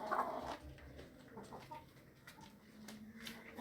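Chickens in a roomy backyard coop give soft clucks and short calls, one louder burst at the start, then scattered quieter clucking amid light rustling.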